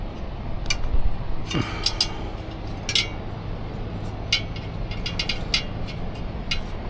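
A ratchet clicks in short bursts while a nut comes off the motor bracket of a Mini Goat ebike, the metallic clicks close and scattered over a low mechanical background.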